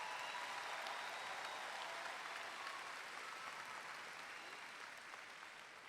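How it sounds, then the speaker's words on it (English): Steady, dense applause from parents in a large crowd at the 2021 Garland High School graduation ceremony, continuous and fairly distant, tapering slightly at the close. "Parents, let's give a big round of applause to these beautiful graduates"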